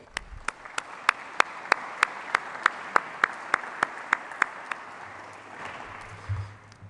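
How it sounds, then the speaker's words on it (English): Applause from the audience at a university energy symposium welcome session, a steady wash of clapping with sharp, regular individual claps standing out across the room, fading toward the end. "let's give these gentlemen a round of applause."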